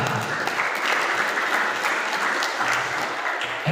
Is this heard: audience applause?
yes